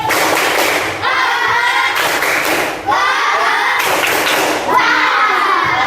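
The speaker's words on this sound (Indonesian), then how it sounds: "kita tepuk semangat terlebih dahulu ya" Schoolchildren at SDN Mekarjaya 13 perform a rhythmic 'tepuk semangat' clapping chant, loud bursts of group claps and shouted syllables repeating in a steady pattern roughly once a second, close and energetic.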